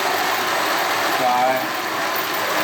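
Electric motor running steadily on an opposing torque dynamic clutch CVT test rig, a continuous mid-pitched hum and whir with broadband noise, loud and close, unchanging throughout.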